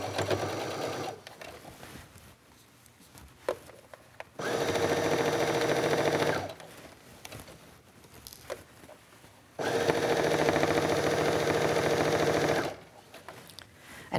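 A domestic sewing machine runs in two sustained bursts of several seconds each, stitching a cuff onto a sleeve with a close, steady mechanical whir. Quieter pauses with light handling noises separate the bursts.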